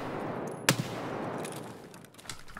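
Gunfire in a first-person shooter video game: one sharp, loud shot followed closely by a smaller second crack, set against a steady, noisy in-game background.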